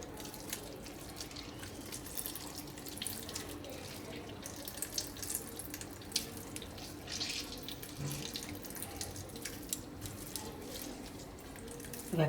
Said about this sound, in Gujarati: તો એને આપણે પાણી આ રીતે નિતારીને કાઢી નાખીશું